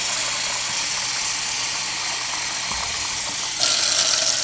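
Hot cooking pot held under a running kitchen tap, giving a steady broadband hiss of water that grows louder and brighter near the end as the flow strikes the pot.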